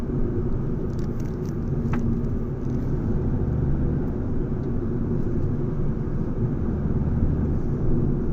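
A Fiat Egea car driving slowly on a road, heard from inside as a loud, steady low engine and road rumble that holds evenly throughout with no talk.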